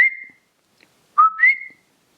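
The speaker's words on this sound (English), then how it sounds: "And so that's just kind of the famous, coqui noise." Coqui frog call from Puerto Rico, clear tonal whistled notes, one brief note then a rising two-part whistle after a pause, close and distinct against silence.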